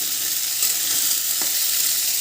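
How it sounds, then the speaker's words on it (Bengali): Pumpkin and soybean fry in a pan, a steady close hiss of sizzling oil with faint stirring scrapes underneath. "ভেজে নেব আগে।"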